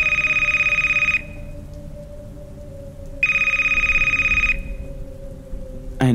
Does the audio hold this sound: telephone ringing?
yes